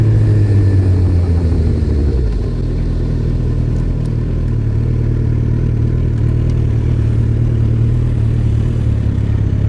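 A loud, rough 2008 Suzuki Hayabusa motorcycle engine idles and rumbles steadily up close, with a harsh throaty growl throughout.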